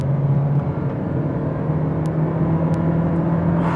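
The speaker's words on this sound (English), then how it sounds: "Let's try one out off the line in sport mode, off the line on the gas." 2026 Toyota Prius LE pulling away hard from a standstill in sport mode, a steady droning hum and whir with a rising tone, close and continuous, with a couple of faint high clicks.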